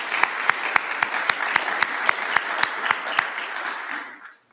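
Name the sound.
audience applause at graduation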